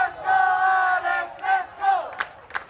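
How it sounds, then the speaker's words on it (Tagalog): Filipino fans roar and shout in a loud sustained yell after a women's singles tennis gold medal match against Thailand, the crowd swelling in waves and breaking into shorter whoops and cries near the end. "Dagungdong ang hiyawan ng Pinoy fans."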